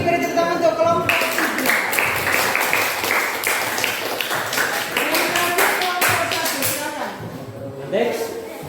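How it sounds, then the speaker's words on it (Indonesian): A classroom audience claps for a student group after its presentation in a teacher-training session, with busy overlapping claps continuing throughout and some voices mixed in. "beri tepuk tangan untuk kelompok 3"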